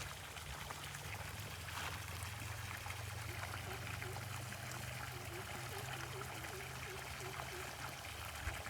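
Faint, continuous trickle of water flowing from a borewell on a farm near Coimbatore, a steady flowing stream with a low hum underneath and no talking.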